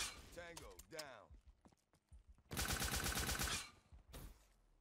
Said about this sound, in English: This nail gun is a pain in the booty sometimes.